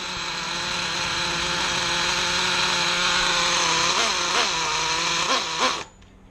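Nitro RC engine from a T-MAXX 3.3 truck, idling high and loud after a single pull start: a steady, buzzy, harmonic drone that wavers a little near the end and then cuts off suddenly.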